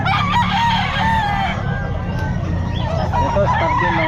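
A young rooster crows at a busy pet market, with several chicken crows and clucks overlapping against a loud, crowded background of birds and bustle, and a person briefly talking.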